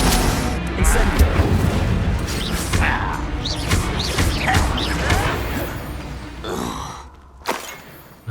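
The Incendio fire spell is cast during combat in Hogwarts Legacy, with booming bursts, whooshes and grunting amid busy battle noise, then a quieter tail.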